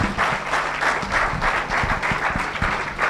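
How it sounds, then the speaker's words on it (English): Audience applause at the opening ceremony of an ultrarunning championship, just before a dance performance: a dense, steady wash of many hands clapping, fairly loud and continuous, with no speech over it. "please note that the artists will always love the sound of clapping"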